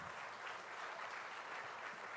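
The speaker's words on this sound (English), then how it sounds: "warm applause." Audience applause fills a conference hall at the India Today Conclave, a dense, even wash of clapping heard from a distance and held steady throughout.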